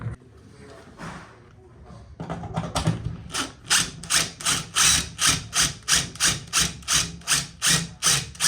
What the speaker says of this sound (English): pilot a hole, screw this in, make the hole, take it out, and then put one of those tiny little screws in.